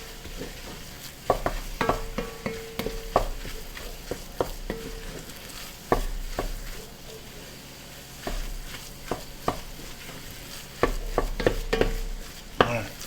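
Cumin and chili powder seasonings being stirred and toasted in a hot pan, with scraping strokes of a utensil against the pan at irregular intervals over a steady close sizzle, no talking.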